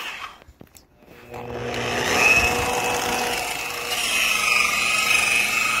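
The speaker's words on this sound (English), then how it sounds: "This is just a Harbor Freight polisher." A Harbor Freight Warrior 7-inch rotary polisher buffing an old hot tub spins up from a quiet start into a steady motor whine and rushing pad noise that continues loud to the end.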